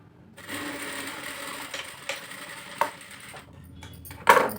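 A sewing machine runs a straight stitch in a moderate, even mechanical hum with faint rhythmic clatter, broken by a few sharp clicks and a brief clunk near the end as it stops.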